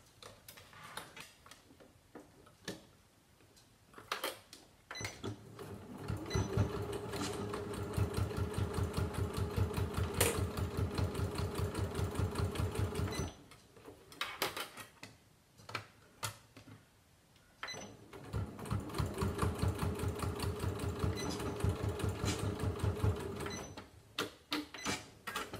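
A sewing machine stitching fabric, running backwards and forwards: rapid rhythmic ticking runs in long stretches with short pauses between them, close and moderately quiet.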